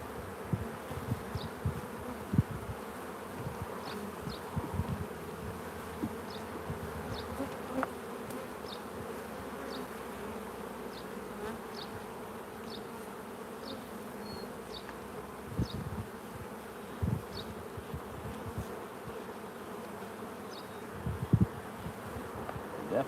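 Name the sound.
agitated honey bees buzzing during hive inspection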